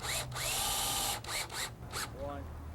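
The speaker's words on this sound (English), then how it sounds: "with the long threshold screws, we'll drill them down through the U-rail into your foundation base" A power drill drives long threshold screws down through an aluminium U-rail into a greenhouse foundation base, several close, loud whirring bursts with short pauses between them.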